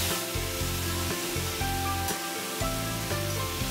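Brinjal frying in a pan, a steady hiss and sizzle of oil with rhythmic bumps and scrapes as the pieces are stirred.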